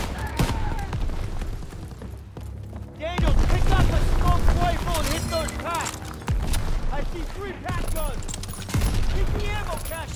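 Call of Duty WWII battle with a smoke rifle and surrounding gunfire, dense repeated shots, booms and clattering weapon mechanisms, loud and close, with shouted voices talking over the action.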